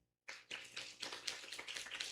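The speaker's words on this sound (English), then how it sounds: "You can clap for Sam." An audience at a business summit claps for the office driver. The applause starts abruptly after a moment of silence, then builds into steady, moderately dense clapping with no speech.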